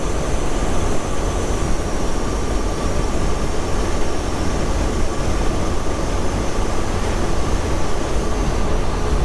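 A diesel-swapped Jeep TJ Wrangler engine runs with a loud, continuous droning roar, steady and close throughout with no pauses or talk.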